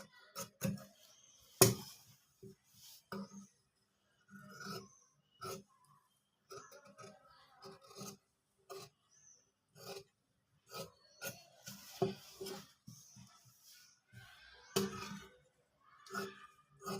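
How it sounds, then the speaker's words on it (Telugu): A marked piece of wood is cut by hand in a series of short, separate rasping strokes, some sharper than others, with quiet pauses between them, close and moderately loud. "సరిపోయింది కాబట్టి ఇప్పుడు మనం కట్ చేసుకోవచ్చు."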